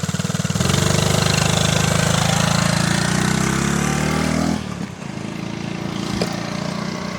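A 1975 Honda ST90 small motorcycle engine runs close by with a steady, buzzy idle, rising briefly then dipping and settling back into an even putter.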